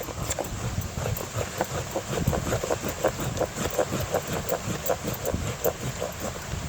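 Outdoor wind buffets and rumbles against the microphone in uneven low gusts, with faint scraping or shaving sounds recurring over it.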